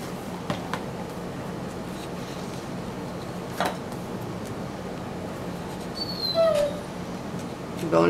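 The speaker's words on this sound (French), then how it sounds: "Bon, là, vous entendez mon chien," An indoor dog whimpers in faint, high, thin whines that rise near the end, over a steady low room hum with a few soft knocks and rustles.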